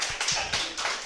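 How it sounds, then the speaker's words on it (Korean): A small youth group at a Sunday worship service claps briefly, a few quick, sharp hand claps in a loose rhythm, close and fairly loud, with no speech. "박수"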